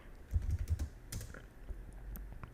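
Keys clatter on a computer keyboard while a value is typed into Python code, with a quick cluster of close taps followed by lighter, scattered keystrokes and no talking.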